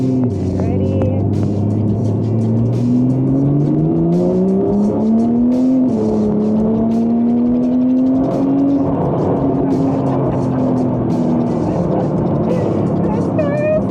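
A 2020s Porsche 911 Turbo 992 pulls hard, its engine note climbing steadily through a long, loud run heard from inside the car, with a brief dip in pitch partway through.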